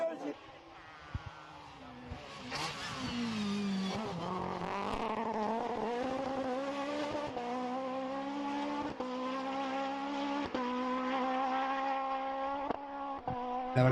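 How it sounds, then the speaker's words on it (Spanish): Peugeot 306 Maxi rally car racing a special stage at the 2023 Rallye Berberecho de Noia in Mazaricos, its high-revving engine climbing in pitch and dropping sharply at each gear change, loud and passing close. "es una delicia poder escuchar este coche, ese sonido celestial que se te mete en el cuerpo, te pone los pelos de punta, el engranar marchas en ese 306 Maxi"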